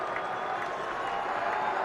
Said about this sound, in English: this is the best crowd of the season in this stadium to watch Marauder football